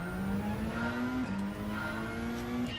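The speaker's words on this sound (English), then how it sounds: "I'll just put the player engine sound up a bit." A race car engine in Gran Turismo 7 holds a steady, fairly even drone, with its pitch creeping up and dipping briefly around a gear change before climbing again.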